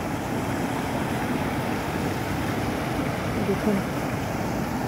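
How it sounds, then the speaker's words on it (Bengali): Strong current of the deep Nuni river rushes in a steady, loud broadband roar of flowing water, with wind buffeting the microphone and a brief spoken word over it. "এটা হচ্ছে নুনি নদী। প্রচণ্ড স্রোত এবং প্রচণ্ড গভীর"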